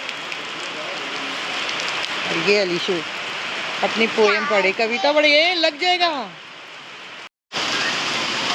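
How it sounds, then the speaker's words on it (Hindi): Heavy rain falls steadily throughout as a loud, continuous hiss, with voices talking over it in the middle, and there is a brief dropout near the end. "यहाँ बहुत तेज बारिश हो रही है"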